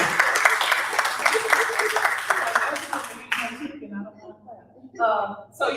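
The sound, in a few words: audience applause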